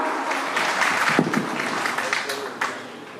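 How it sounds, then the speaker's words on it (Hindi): Audience clapping to welcome the school principal at an Independence Day celebration, a steady wash of applause under a hall's murmur and voices throughout. "जोरदार तालियों से स्वागत कीजिए हमारे प्रिंसिपल मैम का"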